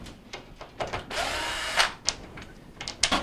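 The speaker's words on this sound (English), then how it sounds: "we're going to remove the two Phillips screws from the console." A power screwdriver whirs briefly while removing Phillips screws from the console of a Kenmore washer. Short clicks and light handling knocks come before and after the whir.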